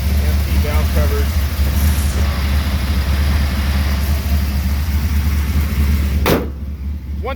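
A 1974 Dodge Dart Custom with aluminum heads idles with a steady low rumble, close and continuous, ending in a brief sharp noise as the level drops near the end.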